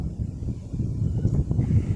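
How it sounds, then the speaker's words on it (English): Strong outdoor wind buffeting a microphone, a continuous low rumbling roar with gusty surges throughout and no speech. "It's windy today"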